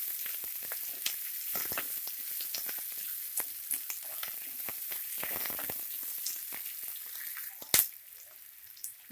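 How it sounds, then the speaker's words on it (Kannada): Onions frying in a pan over a medium flame for beans palya, a steady soft sizzle with scattered crackles and pops and an occasional stirring clink, close and fairly quiet. "ಈರುಳ್ಳಿನ 1-2 ನಿಮಿಷ ಫ್ರೈ ಮಾಡ್ಕೊಳ್ಳಿ"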